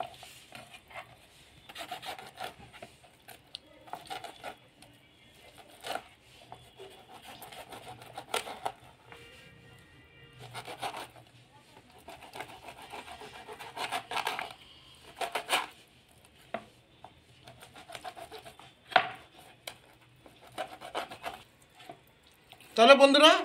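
Repeated rasping, sawing strokes of a knife cutting sarpunti fish into pieces on a board, in uneven bursts with short pauses, close and fairly quiet, with some speech mixed in.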